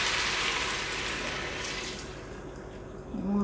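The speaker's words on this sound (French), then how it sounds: "je vais rajouter mon eau" Water from a tap runs steadily into a cooking pot for an evening meal, a continuous rushing stream that fades slightly toward the end.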